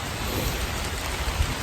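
Steady rain falls during a thunderstorm, a dense continuous hiss of drops on surfaces with faint low rumbles underneath.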